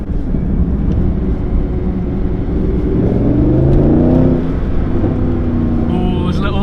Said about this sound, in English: As the car warms up, it gets it's starting to pop and crack a lot.